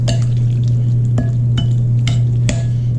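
A spoon stirs chicken shawarma marinade with lemon juice in a bowl, giving a few light, irregular clinks and scrapes against the bowl over a steady low hum.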